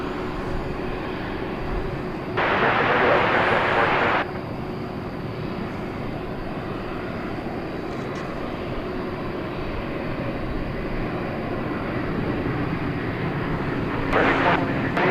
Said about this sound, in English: It's going to be an Airbus A321 when we get it in our sights.